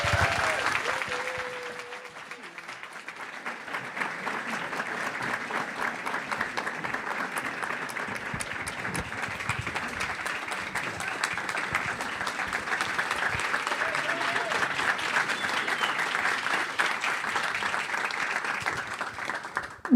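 Sustained audience applause for chef Eric Ripert coming on stage, a dense steady wash of many hands clapping throughout, with a few faint voices mixed in.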